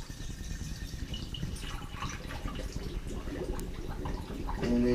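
Water draining from a workstation kitchen sink after the plug is pulled, a continuous gurgling rush with scattered drips and splashes that builds slightly louder toward the end.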